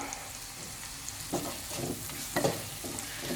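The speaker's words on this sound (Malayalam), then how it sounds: "നന്നായിട്ടൊന്ന് മിക്സ് ചെയ്തെടുക്കാം" Egg bhurji with chopped tomato being mixed in a hot pan, a steady sizzle running throughout with a few soft scraping strokes of the spatula, fairly quiet and close.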